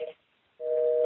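A telephone busy signal on a call: a steady electronic tone cuts off, leaves a short silence, then resumes loud and even, with no voices over it.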